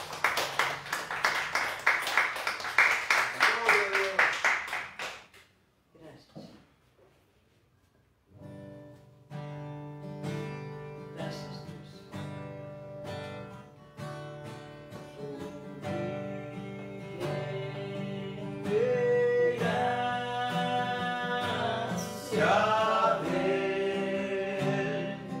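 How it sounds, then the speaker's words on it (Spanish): Congregation at a church service applauds in a burst of dense clapping that breaks off after about five seconds, followed by music with sustained tones through the rest. "Regálenle un aplauso al Rey de Reyes"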